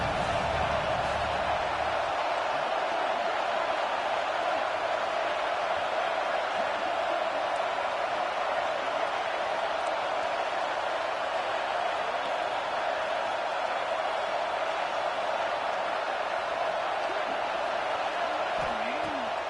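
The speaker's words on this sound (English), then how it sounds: "The Buckeye crowd alive on 3rd down." Ohio State Buckeye football crowd at a game against Notre Dame, a steady broad roar of cheering from a large stadium audience, sustained and distant, with a voice briefly audible.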